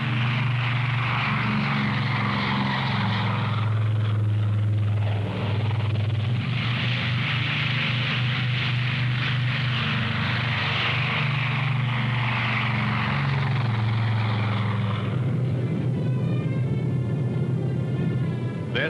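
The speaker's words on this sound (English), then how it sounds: "made ready to be flown to the Korean battle area in Air Force C-54s and C-47s" Propeller transport aircraft, Air Force C-54s and C-47s being readied for the Korean airlift, drone with a steady, loud engine rumble throughout, rising and shifting slightly in pitch as they run.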